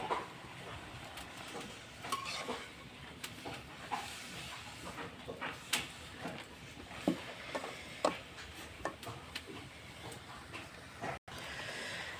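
Red amaranth greens (lal shak) sizzle in an uncovered wok, with a soft steady hiss of frying and occasional scattered scrapes and taps as the leaves are stirred and turned over.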